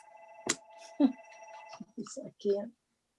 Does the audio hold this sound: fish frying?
no